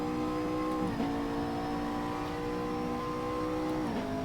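A race car in the sim racing game Assetto Corsa, its engine note holding steady and then climbing through gear changes, a continuous close drone with no talk.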